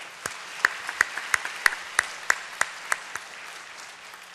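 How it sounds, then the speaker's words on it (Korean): Rhythmic clapping in a church congregation, about a dozen sharp unison claps at a steady beat, fairly close, fading at the end with a low hum underneath. "전능하신 하나님께 영광의 박수 올려드리겠습니다"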